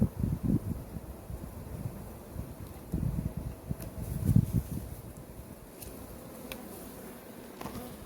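Honey bees buzzing in a low hum on hive frames during a hive inspection, with rustling and handling noises, a few soft thumps, close to the microphone. Buckfast bees.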